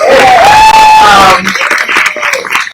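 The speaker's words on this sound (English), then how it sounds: "So please give them a round of applause." An outdoor audience at a book event bursts into cheering and clapping, loud and close, with a shrill whoop at first, then thins into scattered claps and murmuring voices.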